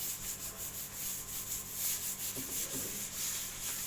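Rough wood of a school bench being sanded by hand, a steady back-and-forth rubbing scrape repeating in a quick even rhythm, close and fairly quiet with no talking.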